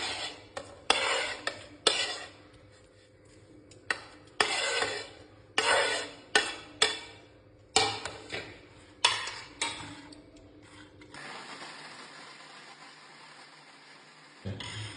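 A spoon knocks and scrapes against a pan in a quick, uneven series of sharp clicks while dry fruits are stirred into a laddu mixture, followed by a quieter, softer scrape near the end.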